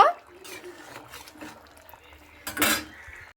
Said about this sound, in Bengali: ডিম ভাজাটাকে দিয়ে একটু ভালো মতো করে নাড়াচাড়া করে নিচ্ছি